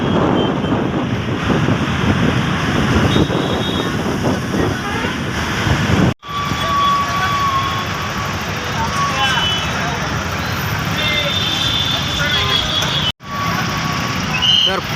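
Steady broadband road and wind roar from a car moving along the Solapur highway, loud and continuous with brief dropouts, and faint voice-like murmur mixed in.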